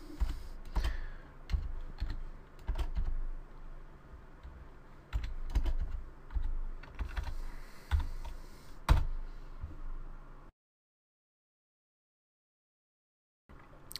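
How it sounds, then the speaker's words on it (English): Computer keyboard keys are pressed in irregular bursts of clicks for about ten seconds, close and fairly quiet, followed by silence and one last tap. "we're going to push any key on the keyboard"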